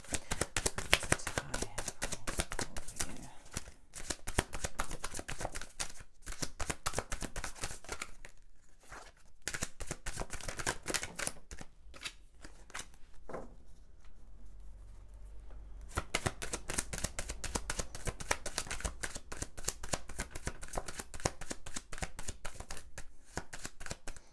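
Tarot cards are shuffled and drawn at length, with rapid riffling flutters, papery slaps and brief pauses, close and fairly quiet, with no voice.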